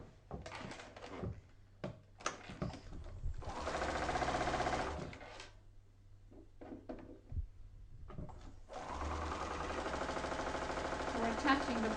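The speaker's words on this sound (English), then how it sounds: "I just sew these down." A sewing machine stitches a quilt border onto an appliqué block in bursts of steady whirring, with a couple of longer runs broken by pauses, clicks and handling noises, close and clear.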